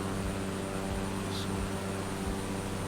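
Steady broadband drone of a light aircraft in flight over the Mojave desert between Palmdale and Barstow-Daggett, heard from inside the cabin as an even, continuous engine and wind roar with no break.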